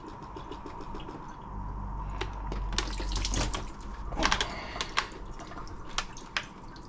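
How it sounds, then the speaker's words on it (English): Water trickles and drips from an Oase BioMaster Thermo 25 aquarium filter motor into a basin, with scattered splashes and drops over a low background rumble. "Just tip away any excess water that remains in the motor."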